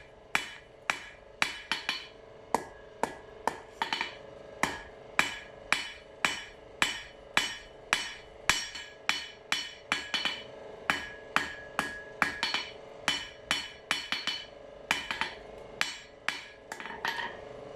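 Hammer blows forging a carbon steel knife at the anvil ring out in a steady, evenly spaced series of sharp metallic strikes, about two per second, loud and close with no talk.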